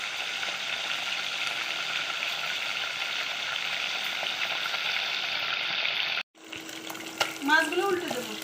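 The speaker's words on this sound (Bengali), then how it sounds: "এখন মাছগুলো ভেজে নেব।" Koi fish fry in oil with a loud, steady sizzle that holds for about six seconds. The sound then cuts off abruptly and a voice talks over quieter background noise.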